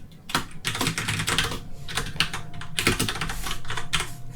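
Rapid typing on a computer keyboard while coding a setup function, dense clattering keystrokes in quick bursts with brief pauses, close and fairly loud, no talking.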